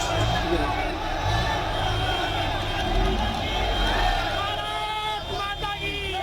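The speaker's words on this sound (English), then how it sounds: "Some crowds ran alongside. Many people lined parts of the road. Some threw flowers, waved flags and shouted slogans." A large crowd lines a road during a funeral procession for India's top general, with a dense, continuous roar of voices and shouted slogans. The babble is loud and unbroken throughout.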